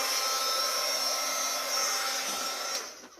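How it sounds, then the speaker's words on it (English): A heat gun blows over resin on a TV tray, a loud steady whirring hiss that holds constant before cutting off near the end. "I'm just going to use my handy dandy heat tool and get started"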